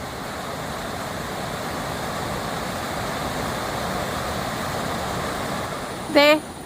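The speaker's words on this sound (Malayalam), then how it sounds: "കിടിലനൊരു വെള്ളച്ചാട്ടം." A waterfall beside a river at a riverside camp gives a steady, rushing roar that runs unbroken through the whole stretch, with a brief higher-pitched call standing out just before the end.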